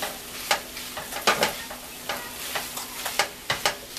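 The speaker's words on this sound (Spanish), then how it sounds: "Y enseguida del camarón le vamos a agregar la verdura y vamos a revolver muy bien." Shrimp and vegetables sizzle in a pan for a fried mojarra with seafood dish, with sharp, regular stirring scrapes and spoon knocks about twice a second over a steady close fry.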